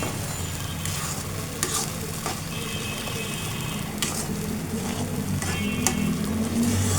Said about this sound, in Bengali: এটা বেশি ভাজবেন না,